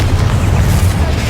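A Confringo blasting spell explodes in Hogwarts Legacy, a loud, sustained booming rumble lasting about a second with no break.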